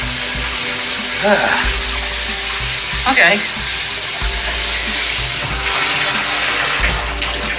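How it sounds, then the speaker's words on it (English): Steady rushing spray of running water fills the clip, with brief splashy bursts and a short spoken word near the start. "I'm just randomly turning the shower on"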